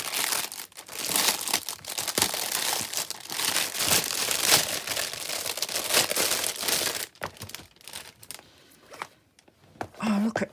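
Crinkly plastic craft supply packaging torn and opened up close, a busy stretch of crackling, crumpling and rustling with short tearing bursts, then quieter handling at the end.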